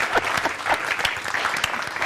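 Studio audience applause on a morning talk show in Burkina Faso, steady dense clapping that keeps going for the whole stretch at moderate volume, with no voices over it.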